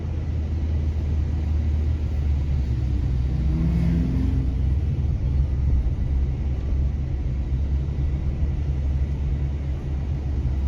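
A lifted four-wheel-drive vehicle drives on beach sand on the Outer Banks, its engine a loud, constant rumble with a steady mid-range whir that swells slightly midway.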